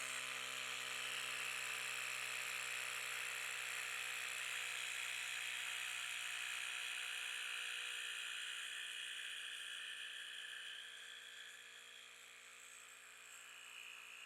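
A cordless drain pressure cleaner builds up pressure for a sink drain, a steady close whirring pump hum that eases slightly in pitch and level toward the end, with no talking.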